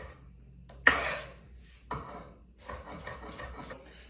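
Knife chopping halved and quartered food on a cutting board, a few sharp close strikes followed by a run of quicker scraping chops, with no talking.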